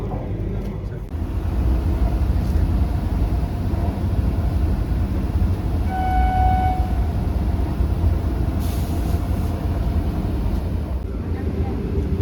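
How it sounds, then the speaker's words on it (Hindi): Steady, continuous rolling rumble of the Vande Bharat Express running on the line between Ernakulam and Bengaluru toward Coimbatore, heard from inside a carriage with a faint tonal whine in the middle. "दरअसल ये 3 राज्यों को जोड़ने वाली ट्रेन है।"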